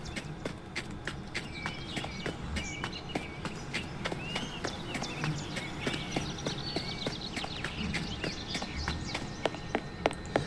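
Steady hoof clip-clops from a walking horse in the video game Sherlock Holmes The Awakened, regular and moderately close, over a constant ambient background with occasional bird-like chirps.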